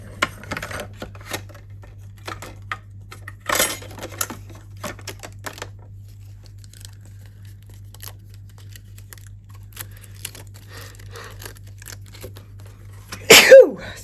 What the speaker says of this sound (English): I need to sneeze. Excuse me.